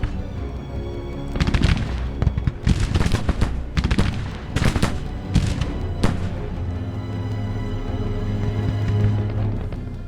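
Volleys of musket and rifle fire from skirmishers in a Grand Tactician Civil War battle crackle in repeated bursts, with booming cannon-like reports and a steady low rumble of battle underneath, fairly close and loud throughout.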